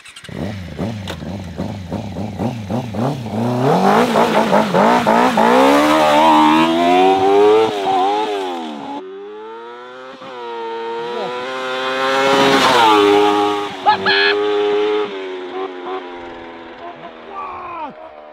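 A Yamaha YFZ quad fitted with an R6 engine revs hard through rising gear pulls in a straight line, a loud, close, high-pitched shriek with a brief lull between two bursts of acceleration.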